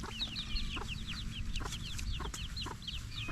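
Chickens cluck and squawk in quick, overlapping calls, moderately close, over a steady outdoor background with a few sharp knocks.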